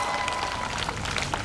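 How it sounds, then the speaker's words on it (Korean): A crowd at an outdoor rally in a park applauds to welcome the next speaker; the clapping is a dense, even, fairly soft wash throughout. "대구 퀴어 축제 반대 대책 본부의 사무총장님이신 김영환 총장님 큰 박수로 맞아주시기 부탁드립니다."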